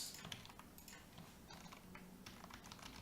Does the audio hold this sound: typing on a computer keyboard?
yes